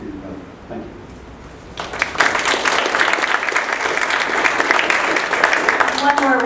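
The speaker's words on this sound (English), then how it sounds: "One more round of applause for Place 5 candidates." Audience at a city council candidates debate breaks into applause after a quieter spoken lead-in, the clapping rising suddenly and sustaining dense and steady to the end.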